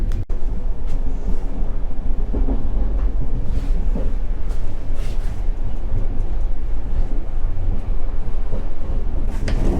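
Steady rumbling of the EC Bathory Terespol–Budapest train rolling along the rails, a continuous low clatter and hum with occasional brighter metallic clicks, no talking.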